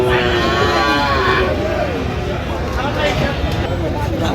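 A Friesian cross calf lows at a cattle market in Dinajpur, one long drawn-out moo followed by a second, loud and close, over a background of people talking.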